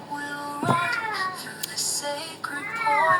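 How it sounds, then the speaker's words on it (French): A pet cat meows indoors, giving a couple of drawn-out, wavering cries close to the listener over a quiet room background. "C'est mon chat qui miaule, vous avez entendu ?"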